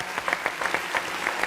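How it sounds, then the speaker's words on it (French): Audience applause greeting a guest arriving at a televised debate: brisk, moderately loud clapping from a seated crowd, steady and continuous over a short stretch. "On va l'applaudir très fort, s'il vous plaît."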